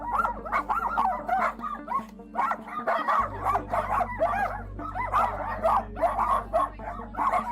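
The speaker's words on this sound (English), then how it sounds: "You'd think it was just a handful of puppies that Miguel had in his house." Many puppies bark, yip and whimper together in a house during a police search warrant raid, a loud, continuous chorus of overlapping high-pitched cries.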